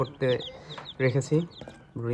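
Four-day-old native chicks being brooded peep in short high chirps, scattered in bursts, alongside a low talking voice.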